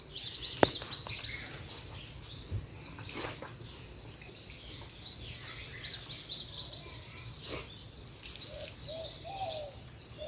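Wild birds call in hillside forest, a mix of chirps, tweets and cooing from several birds at moderate distance, continuous over a quiet background with no talking.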